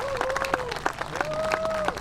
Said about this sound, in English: I think we all need to give her a special round of applause